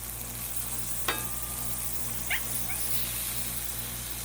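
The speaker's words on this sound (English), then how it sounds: "Oh, I love my shrimp on the griddle." Shrimp seasoned with Old Bay sizzle on a griddle with a constant hiss, while a short high yip cuts in once and another faint chirp follows.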